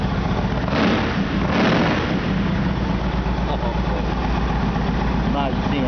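A 2008 Yamaha Raider S motorcycle with a 1900 cc engine idles nearby in a steady low rumble, with people talking over it throughout.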